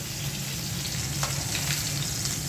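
Fish frying in vigorously bubbling oil, a dense, close crackling sizzle with spitting pops, heard alone and steady throughout.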